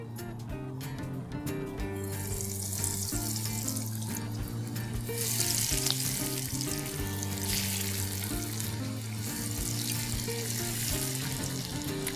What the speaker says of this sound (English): The oil is nice and hot, so I'm just going to drop these in the hot oil